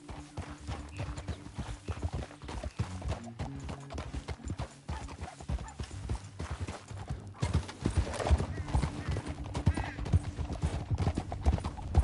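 A horse gallops in Red Dead Redemption 2 with steady, rapid clip-clop hoofbeats over a canyon trail. The rider urges it on and the horse whinnies once, while game music and a speaking voice sit under the hooves.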